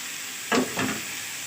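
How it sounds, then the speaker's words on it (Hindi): Spoon stirring chopped tomato into brain frying in a pan, two short scraping strokes over a faint steady sizzle, close and quiet. "और अब इस टमाटर को इसके साथ करेंगे मिक्स"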